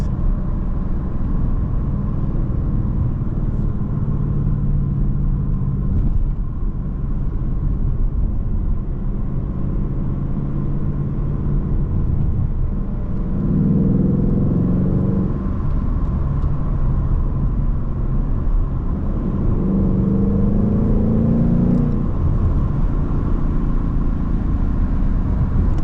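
Ford Mustang GT engine rumbling on dark back roads at night, a continuous low cabin drone with two distinct throttle swells mid-drive, no talking over it.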